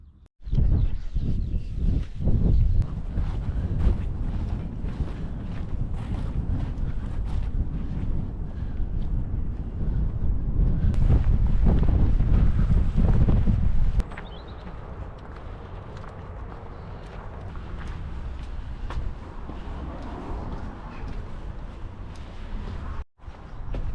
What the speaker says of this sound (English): it's a windy old day again, coming from the east.